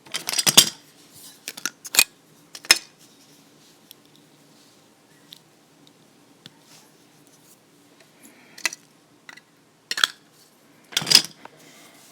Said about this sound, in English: And now I can trim my thread.